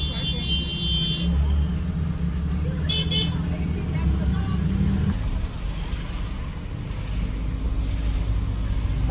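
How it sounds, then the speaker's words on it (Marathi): Heavy, slow mountain-road traffic leaving Manali: a steady low engine and wind rumble throughout, with a brief double horn beep early on. "पण खूप ट्रॅफिक आहे."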